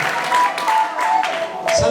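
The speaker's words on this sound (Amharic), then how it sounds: "በእውነት አጨብጭቡ ለእሱ እስኪ" Applause from a church congregation at a lively worship service, a steady wash of hand claps running under a preacher's loud voice throughout.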